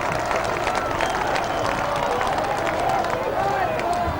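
A rugby league crowd at a 1996 Keighley versus Hull Division One premiership semi-final, applauding a player with sustained clapping and cheering. The noise is dense and steady, with a commentator talking over it.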